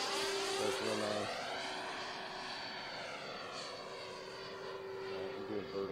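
AeroFoam MB-339 105mm RC electric ducted-fan jet flying, a steady whooshing turbine whine with slowly shifting pitch as it passes at a distance, fairly faint throughout.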